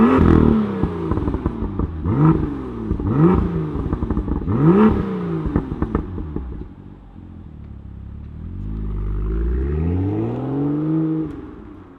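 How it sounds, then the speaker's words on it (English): A 2018 BMW M2 with a twin-turbocharged straight-six engine revs loudly several times in sharp rising and falling bursts, then settles into a steadier, lower engine drone that swells again near the end. "let's fire up this straight six twin turbocharged power plant and hear what it sounds like"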